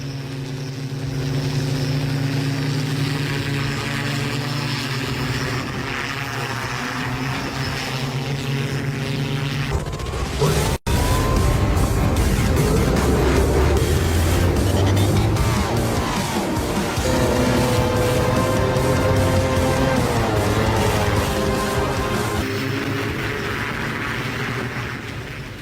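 A flying hoverbike's loud, steady whirring engine drones throughout, with a sharp click midway and the pitch shifting as it revs and hovers.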